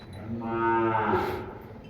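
A Cholistani Friesian cross cow lets out a single long, deep moo that swells to its loudest in the middle and fades out, fairly near and heard on its own.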